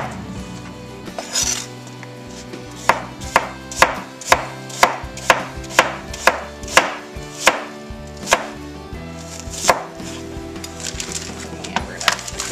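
A kitchen knife rough-cuts ingredients for beef bourguignon on a cutting board, about fifteen sharp, evenly spaced chops close to the mic, with light clinks and handling noise around them.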